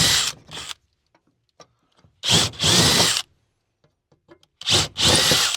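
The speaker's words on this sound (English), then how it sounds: "we're just going to go through and match drill all the holes where we want to put a rivet" A power drill with a drill stop match-drills rivet holes through aluminum ceiling furring in a Ford Transit van, three separate short bursts of close, high-pitched whirring and grinding, each split by quiet pauses.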